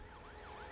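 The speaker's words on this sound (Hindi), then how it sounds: "एम्बुलेंस आ गई है।" An ambulance siren wails in a steady rising-and-falling pattern throughout, moderately loud and continuous, set against background rumble at an outdoor scene.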